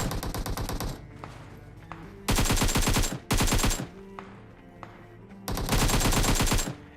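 Rapid bursts of automatic gunfire in the mobile battle royale game PUBG Mobile, three long loud volleys separated by short pauses with scattered single shots between, close and intense.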